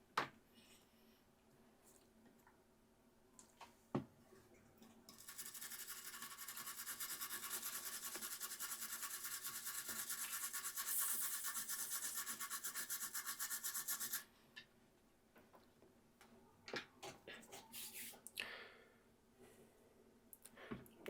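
A small rotary grinder cutting inside a Nintendo Switch OLED console to fit a modchip, a steady close whine for about nine seconds between quieter ticks and handling noises.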